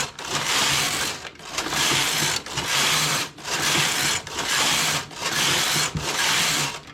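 A knitting machine's carriage sweeps back and forth across the needle bed in a tuck stitch pattern, making six steady, loud swishing, clattering passes separated by brief pauses.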